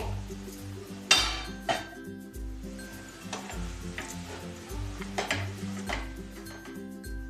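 A masher works a cooled besan mixture in a metal pot, giving irregular clinks and scraping taps, near and fairly faint, over a background of steady tonal music.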